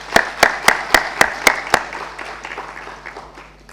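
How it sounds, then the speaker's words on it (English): Applause from a conference audience at a nursing simulation event, opening with a handful of sharp, distinct claps that soon blend into a softer, thinning patter of clapping in the hall. "Let's give a round of applause."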